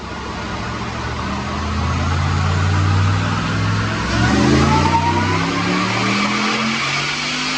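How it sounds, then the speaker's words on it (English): A supercharged Ford Sport Trac (Adrenalin) strapped to a dyno revs up through a long pull, its engine note climbing steadily in pitch and growing louder, close and continuous with no voices. "check out this dyno pull"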